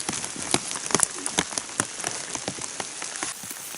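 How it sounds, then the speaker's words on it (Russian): Heavy rain lashes down on a boat in the taiga, a dense, steady hiss of drops striking the surface with scattered sharper splashes, loud and close, with no talk. "Капитальный дождь хлестать начал."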